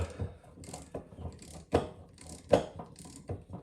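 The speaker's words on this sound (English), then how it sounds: "So the rust is getting broke with the wheel puller" Wheel puller working against a rusted part on an RK 60 mower deck, slow ratcheting clicks and creaking mechanical strain with a couple of sharper cracks as the rust gives way, close-up.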